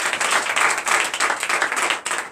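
A church congregation applauds continuously during a Sunday service, dense clapping with a few surges and no talk over it.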